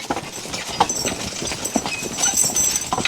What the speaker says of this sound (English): So Brenda, I'm gonna have you jump on the cart and just hold the horses for me